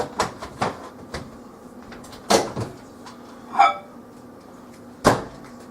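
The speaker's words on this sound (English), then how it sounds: "Now I'm going to get my coconut oil out of the microwave." A kitchen microwave holding warmed coconut oil has its door handled, producing a series of sharp clunks and clicks spaced a second or so apart, close by, with a brief rattling scrape in between.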